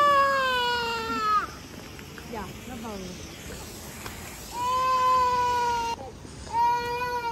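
A young child cries and wails in high, drawn-out sobbing bursts outdoors on a hill, with pauses and quieter whimpers between, fairly close.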